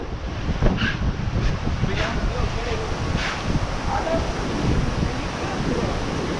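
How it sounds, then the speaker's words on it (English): Wind blows outdoors at a water park, a steady roar of gusty microphone buffeting under voices talking nearby. "The wind keep blowing."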